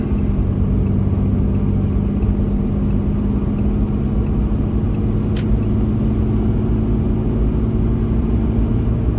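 Steady engine and tyre rumble from inside a car cruising a highway in Washington State on the way to Wenatchee, a constant low drone with no clear change as it overtakes another car.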